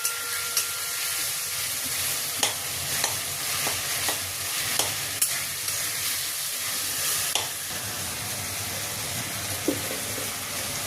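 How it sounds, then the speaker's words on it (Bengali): Tomatoes with chopped green chillies sizzle in a pan while being mashed with a metal spatula, a steady frying hiss punctuated by regular sharp taps and scrapes of the spatula against the pan. "টমেটোগুলোকে খুন্তি দিয়ে ম্যাশ করে নেব।"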